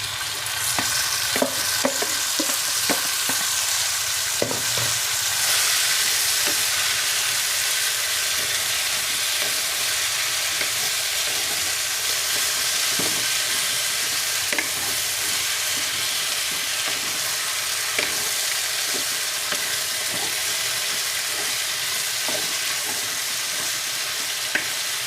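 Cherry pickle being stirred in a pan, a steady bed of frying sizzle broken by repeated scraping and clinking stir strokes, loud and close with no voices.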